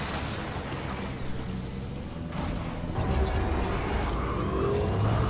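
Game car engine from a desert driving game with a broken highway setting, a steady motor drone that swells louder partway through as the vehicle drives over wrecked cars, with no talk.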